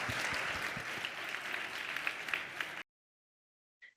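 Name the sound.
audience applause for the speakers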